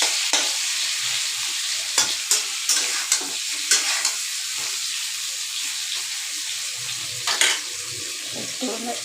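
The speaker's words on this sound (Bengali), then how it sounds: "আমার আলু কাঁচকলা ভাজা হয়ে গেছে" Potato and raw banana frying in a kadai: a loud, continuous hissing sizzle with a spatula repeatedly scraping and knocking against the pan, and no talking.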